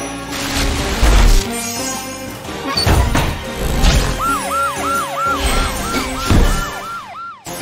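A cartoon police siren wails in repeated rising-falling whoops over busy, crashing action music and impacts.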